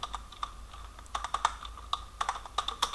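Quick, light keystrokes on a computer keyboard while C code is written, irregular taps close and fairly quiet with no talking.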